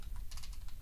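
Soft, quick keystrokes tap on a computer keyboard while a date is entered into a blog post, a faint run of light clicks over a steady low background hum.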